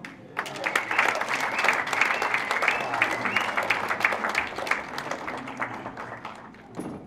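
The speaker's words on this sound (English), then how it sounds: "your applause is tired" A concert audience at a jazz night applauds a trombonist onto the stage, brisk clapping with voices mixed in, peaking early, then gradually thinning before a final lull.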